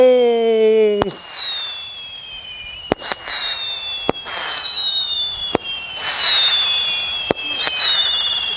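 A Sivakasi Arabian Nights aerial firework goes off outdoors. Whistling shells rise and fall, and about six sharp, loud cracking bursts come at uneven intervals.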